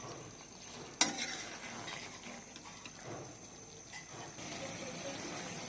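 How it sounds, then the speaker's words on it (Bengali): Potatoes being stirred and sautéed with chicken curry in a pan, a quiet close sizzle with a clatter as they go in at the start, then soft scraping stirs over a low frying hiss, no talking. "এখন দিয়ে দিচ্ছি আলু আলুটাকেও ভালো করে কষিয়ে নিচ্ছি"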